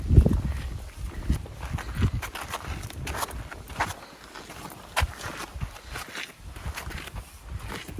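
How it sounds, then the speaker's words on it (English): Steady clip-clop of horse hooves on a hard surface with light rattling of a horse-drawn cart in the Channel Islands, heard from a short distance over outdoor background noise. "Looks like the children are getting a horse and cart"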